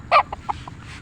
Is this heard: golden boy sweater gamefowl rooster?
yes